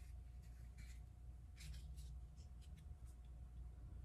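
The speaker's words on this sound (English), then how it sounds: "I'm going to cut one fold" Scissors cutting through folded toilet paper while making a small zen garden, a few soft crisp snips and rustles close by with no talking.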